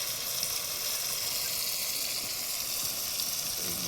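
Spices sizzle steadily in hot oil in a pan while chicken is being cooked, a constant close, bright hiss with no talking.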